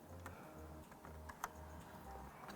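Keys clack on a Game Max Strike RGB gaming keyboard with silver switches, a close and quiet run of rapid presses with a few sharper taps, over a faint background hum.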